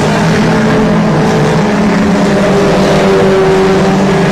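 Race car engine at I-37 Speedway, the loose-handling 88 car running high on the track near the berm coming out of turn 2; a steady, loud, continuous engine roar with no pause throughout.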